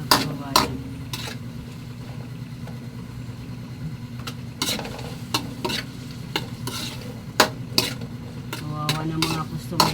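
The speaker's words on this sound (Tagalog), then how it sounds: "Para pag maluto na itong mga sibuyas, kamatis at saka bawang, malasa siya." Onions, tomatoes and garlic sautéing in a pan, a steady close sizzle with sharp clanks and scrapes of stirring at irregular moments, plus a low hum underneath.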